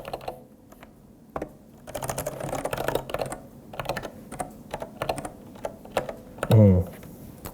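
Someone types on a regular computer keyboard while coding in Haskell: steady, close clicking keystrokes in uneven bursts, joined by a short hum near the end.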